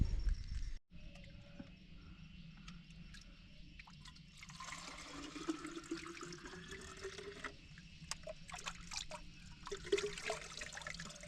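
Water seeping and trickling out of rock beside a mountain hiking trail near Ooty, a soft continuous gurgle with a few brighter splashes, heard up close with no voices.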